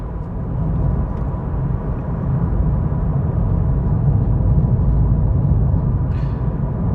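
Steady low road rumble fills the cabin of an Audi A3 Saloon on the move, a constant broadband drone without a break or a voice.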